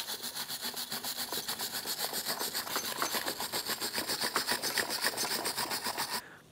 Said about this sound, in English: We're just going to use a wire brush